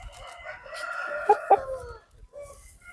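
A fighting rooster of a cockfighting breed kept for Sankranti bouts crows once, loud and close, its drawn-out call rising to two sharp peaks before trailing off, with no talk over it.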